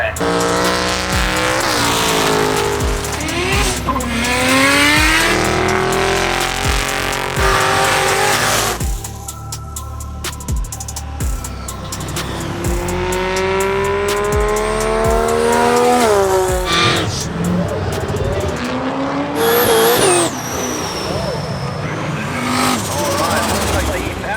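Racing cars at an off-street racing event roar past with revving engines and squealing tires, loud and continuous with repeated acceleration passes, and crowd noise mixed in.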